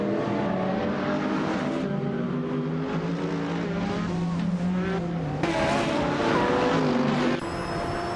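Hypercars, among them a 2015 Ferrari FXXK, roar around the Curitiba circuit in a racing video game, with loud sustained engine whine, shifting pitch through gear changes and brief tire squeal, continuous and close.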